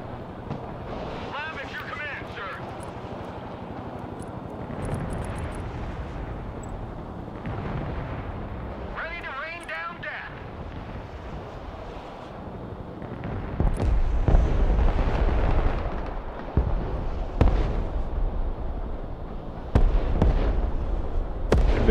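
Artillery fire and explosions from the military strategy video game Broken Arrow boom and rumble continuously, with heavier blasts building toward the end, under a man's speech.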